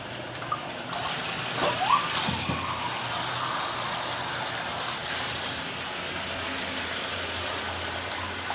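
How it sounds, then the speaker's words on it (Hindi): Water runs steadily into food cooking in a pan, a continuous pouring rush that starts around the first second and carries on at even strength to the end, no voices. "पानी डाल देती हूँ।"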